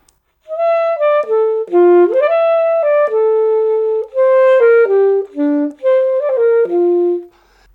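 A solo saxophone plays a melodic phrase, clear and close, with sustained notes and smooth slides between them.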